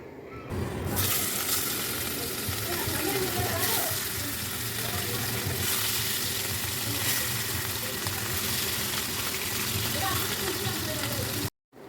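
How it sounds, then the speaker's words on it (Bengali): Katla fish fry in hot oil in a kadai, giving a steady, loud bubbling sizzle that runs nearly unbroken throughout before cutting off abruptly at the end. "এইভাবে আমি সব কটা মাছ ভেজে তুলব"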